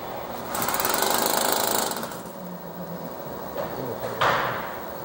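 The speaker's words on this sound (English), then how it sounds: "run the large coring drill from both sides and make a nice 2-inch hole" A large coring drill bores a 2-inch hole through an 18-inch-thick wall, grinding loudly for a couple of seconds, then dropping to a lower rumble with a few brief scraping bursts.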